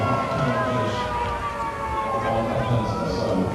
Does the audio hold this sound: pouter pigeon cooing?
no